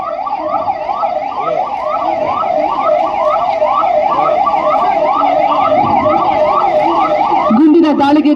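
An ambulance siren wails in a steady rising-and-falling cycle, loud and close, during an anti-terror mock drill in Kolar, with traffic noise underneath.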